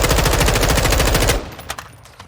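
Rapid automatic rifle fire from a weapon with a high zoom optic in Modern Warfare 2, a dense, loud burst of evenly spaced shots that stops abruptly, followed by a few fainter clicks and thuds.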